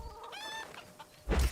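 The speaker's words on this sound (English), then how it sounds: "Whoa, chicken! You scared me. Freaking chicken." A chicken in the video game Atomic Heart lets out a short, close cluck with a rising, buzzy call, followed by a sudden loud thump or rustle at the end.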